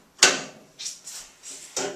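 A screwdriver prying a control rod clip off a Mustang door latch relay gives a series of sharp, close plastic-and-metal clicks and snaps, one strong click followed by several lighter ones in quick succession.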